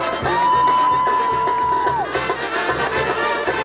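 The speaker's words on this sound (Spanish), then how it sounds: "Eso es todo, fuerte el aplauso." Crowd at a jaripeo rodeo in Paso de Guadalupe cheering and applauding loudly, a steady wash of clapping and voices with a sustained whistle or horn tone riding over it, close and continuous.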